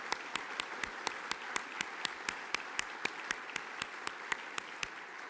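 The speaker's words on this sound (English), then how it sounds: "Let's have a round of applause for all of these great people that we've lost." A crowd at a music industry business review applauds in tribute to people who have died. The applause is faint and distant, with one set of sharp, evenly spaced claps standing out close by.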